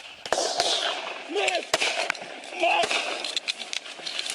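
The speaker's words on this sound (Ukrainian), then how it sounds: "Уже за мить лунають постріли." Several sharp gunshot bangs at irregular intervals, some in quick succession, with raised voices and commotion around them.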